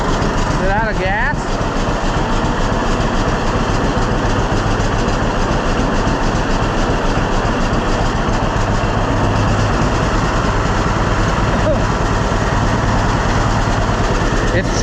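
A neglected John Deere B tractor engine runs with a loud, steady, close chugging drone that carries on unbroken, while voices are heard talking over it.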